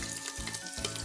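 Curry leaves crackle and sizzle steadily in hot oil in a pan, the first step of a mushroom biryani, with loud, continuous frying close by throughout and no talking.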